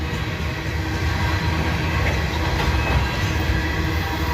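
A long freight train with a distributed power locomotive rolls past close by, a steady heavy rumble with rattling wagon clatter and faint wheel squeal throughout.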